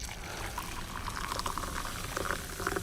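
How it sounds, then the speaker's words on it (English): Boiling water poured from a kettle over bicarbonate of soda in a home kitchen, a steady close liquid rush with small gurgles and splashes running throughout, no talking. "And then there's exactly measured 300 mils of boiling water."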